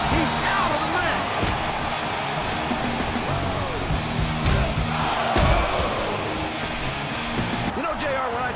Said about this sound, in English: I'm not sure I agree with what the crowd is chanting, JR, but I guess it's their right.